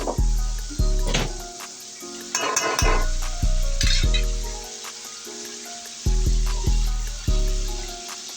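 Masala frying in a pan for chicken lollipop, loud close sizzling with repeated heavy stirring and scraping strokes in an uneven rhythm, with no one talking.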